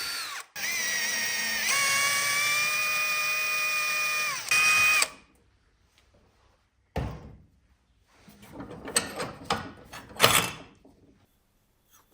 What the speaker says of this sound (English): which we'll drill and thread to a size 8 thread.